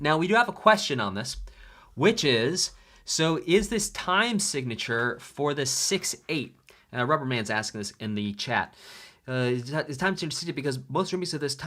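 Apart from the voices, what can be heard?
No everyday noises stand out.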